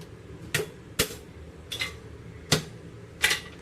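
Sharp close knocks of a mortar pestle handle cracking crab claws, five distinct hard taps spaced roughly half a second to a second apart against a quiet background.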